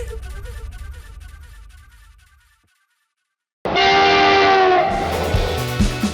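A train horn sounds as a news-segment sound effect: loud sustained blasts with a rising, bright tone burst in after a short silence, following faded music, with no one talking over it.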